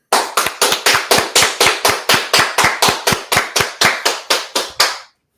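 A group at an Israelite School of Universal Practical Knowledge street gathering in Washington DC claps in unison: about twenty loud, crisp, evenly spaced claps in a fast steady rhythm, then silence.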